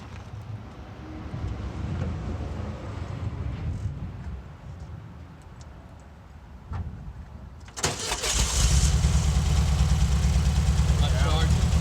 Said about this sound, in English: fire it up again